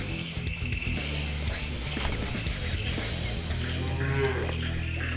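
Cow lowing in a fantasy video game, a loud, drawn-out animal call over dense game music and ambient effects, with no talking.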